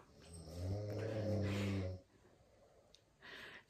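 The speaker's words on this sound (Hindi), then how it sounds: "सब सो रहे हैं, खर्राटे मार रहे हैं।" People asleep indoors, snoring in a slow, rough, nasal rhythm: one long loud snore, then a quieter breathy one after a pause, close to the listener.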